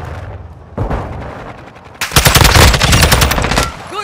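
Rapid assault rifle gunfire in Call of Duty: Modern Warfare II, a burst of loud, close automatic shots that follows a quieter stretch of game ambience and runs almost to the end.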